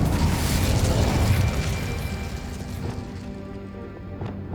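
An Incendio fire spell cast in Hogwarts Legacy, a loud burst of fiery whoosh and crackling boom that swells early and then thins out into a fading roar amid other combat sounds.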